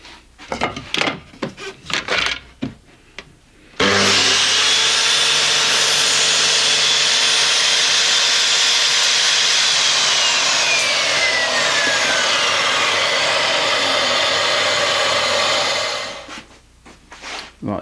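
A mitre saw swung over to cut a 45-degree mitre return on a wooden dado rail, one loud sustained cut of about twelve seconds that winds down at the end, with brief workshop noises before and after.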